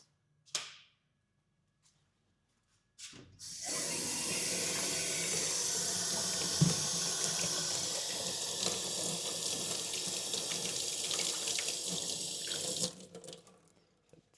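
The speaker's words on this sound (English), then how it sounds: "Oh, I gotta wash my hands." Tap water running into a sink while hands are washed, a steady close hiss lasting about ten seconds after a couple of brief clicks, then cut off abruptly.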